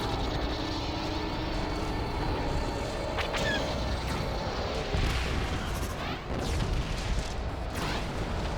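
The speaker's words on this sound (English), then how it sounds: "Target that bomber." A bomber aircraft in Star Wars: Battlefront 2 (2005, PC) produces a dense, continuous roar amid rumbling battle noise and scattered blasts, steady and loud throughout.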